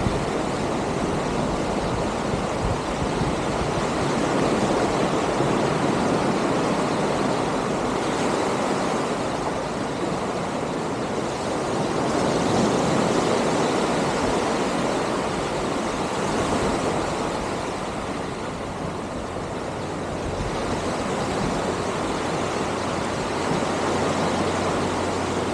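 Ocean surf washing onto a shore, a steady, continuous roar of breaking water with wind noise that swells and eases slightly over time, with no voices.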